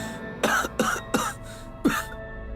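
Four sharp coughs, close and loud, spaced unevenly with short pauses between them.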